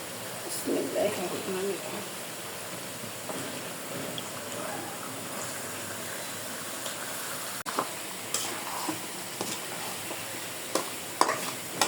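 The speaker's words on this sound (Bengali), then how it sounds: "এই যে আমার মশলাটা ভালোভাবে কষিয়ে নিয়েছি এখন মুরগির মাংসগুলো দিয়ে দেবো" Chicken pieces sizzle and get stirred into frying spice paste for a curry with potatoes, a continuous hiss with scattered scraping and clacks of the spoon while someone talks over it.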